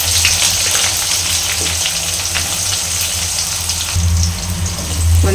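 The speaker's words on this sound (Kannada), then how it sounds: "ಈರುಳ್ಳಿ ಚೆನ್ನಾಗಿ ಎಣ್ಣೆಯಲ್ಲಿ ಫ್ರೈ ಆಗಬೇಕು" Sliced onions fry with ginger in hot oil in a pan for tomato gojju, giving a loud, continuous close sizzle over a low hum that swells briefly near the end, with no talk.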